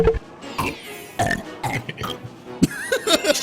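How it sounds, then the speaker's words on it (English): Several loud burps in a row, each a harsh, gravelly croak with gaps between them, close to the microphone and with no other talk. "Some very loud burps."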